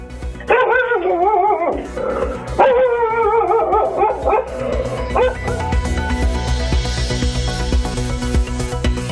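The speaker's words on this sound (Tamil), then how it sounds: "நாய் இடைவிடாமல் குறைத்ததால் ஏமாற்றத்துடன் திரும்பியது." A dog in a residential area near Ooty in Tamil Nadu barks continuously at a leopard, loud, repeated yelping barks in quick bursts that then blur into a noisy, busy mix.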